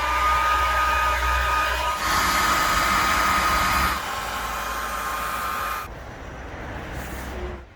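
A hair dryer blows steadily with a broad whooshing hiss, shifting in level a few times and dropping quieter toward the end, with no talk.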